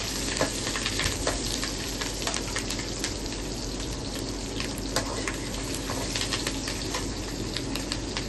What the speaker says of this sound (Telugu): జీడిపప్పు వేసుకున్నాను అవి కాస్త కలర్ మారే వరకు వేపుకుందాం